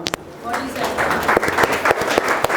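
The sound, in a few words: audience clapping for Anu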